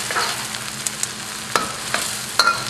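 Aromatics sizzling as they heat in a pan for a Vietnamese dish, a steady broadband hiss broken by a few sharp crackles and stirring clicks, close and moderately loud with no talking.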